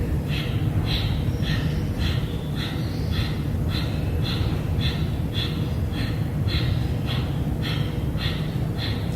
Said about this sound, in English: Just do your best to keep that rhythm of breathing out forcefully.